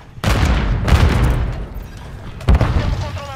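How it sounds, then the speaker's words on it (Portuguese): A Semtex grenade goes off in Call of Duty MW3 on PS5 with a loud, close boom, followed by a rumbling tail and a second heavy blast a couple of seconds later. "Semtex lançada!"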